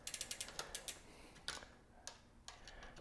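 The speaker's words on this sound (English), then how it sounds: "I'm gonna go ahead and undo the derailleur off the hanger" A tool ratchets as a rear derailleur is unbolted from the hanger of a Trek Roscoe 8 mountain bike, giving a rapid run of close, light clicks that slows into scattered single ticks.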